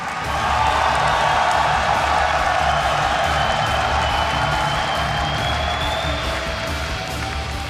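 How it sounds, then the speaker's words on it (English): A large esports crowd at a semifinal match between two players cheers and applauds as a fan favorite is introduced, a loud sustained roar of voices and clapping filling the venue with no break. "when the crowd cheers for Jaedong, it still like that, erupts into our headsets"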